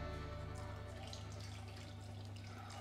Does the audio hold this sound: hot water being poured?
yes